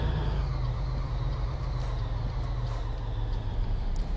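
A Scania 112H Intercooler truck engine in Euro Truck Simulator 2 drones loudly and continuously, over-revving with a deep, steady rumble.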